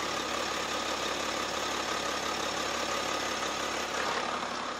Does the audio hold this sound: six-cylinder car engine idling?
yes